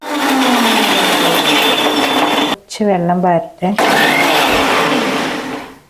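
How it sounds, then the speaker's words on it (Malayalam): Loud, steady whirring of a blender grinding lemon and ginger close by, briefly cut off while someone speaks, then resuming its grinding roar. "ആദ്യം ഒന്ന് നാരങ്ങയും ഇഞ്ചിയും കൂടി അടിക്കട്ടെ"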